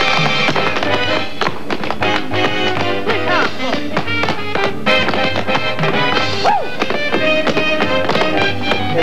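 Rapid, loud tap dancing on a theater stage in the musical Bring in 'da Noise, Bring in 'da Funk, dense rhythmic shoe strikes mixed with music and crowd sound throughout.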